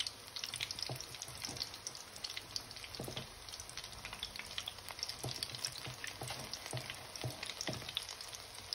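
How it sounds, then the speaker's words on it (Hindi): Small Memoni boti kebab portions made with bajra, dropped into hot oil and frying over medium heat, give a steady dense sizzle with crackling pops throughout, close and continuous, no voices. "मीडियम हीट पे हम इसे फ्राई करेंगे"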